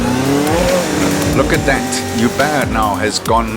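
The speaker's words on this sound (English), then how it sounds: "I race a Lotus Elise Motorsport with a 488 Ferrari engine in it" Lotus Elise Motorsport race car fitted with a twin-turbo Ferrari 488 V8, roaring through gear changes on a hillclimb-style run with some tire squeal, under a commentator's excited talk.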